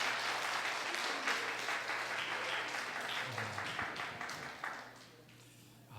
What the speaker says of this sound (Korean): 다시 한번 박수 보내드릴까요?